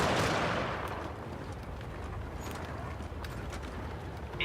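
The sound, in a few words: incoming artillery fire in a video game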